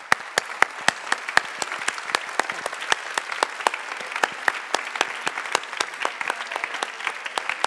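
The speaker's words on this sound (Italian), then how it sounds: "un grandissimo applauso alla presidente Luigia Vannini Procaccini" A theatre audience at an arts gala for research gives dense, sustained clapping for an association president, steady and fairly loud throughout with no voices over it.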